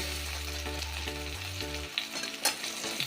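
Raw banana and potato pieces frying in hot oil give a steady close sizzle, with a few stirring clatters near the end, beneath a low music bed.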